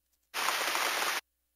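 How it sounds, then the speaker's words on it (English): A 2005 VTech Touch and Discover Alphabet Town toy plays its electronic rain sound effect: a single burst of hissing, rain-like noise just under a second long that starts and stops abruptly. "It's raining."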